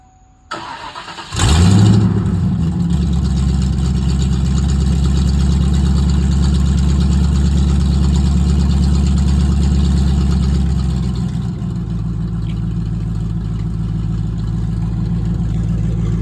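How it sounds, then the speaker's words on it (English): A Mustang GT fitted with headers, downpipes and a cold air intake fires up with a starter whir and loud catch, then settles into a deep, rumbling idle close by that eases slightly lower near the end. "this is the startup for the GT. This is after I did the headers and the cold air."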